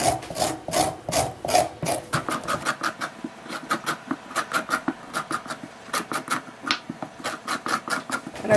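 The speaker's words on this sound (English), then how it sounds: "You can finish off by scraping it with a spoon." A spoon scrapes the inside of a pumpkin, with rapid rhythmic rasping strokes, loud and close, repeating for several seconds with brief gaps between bursts.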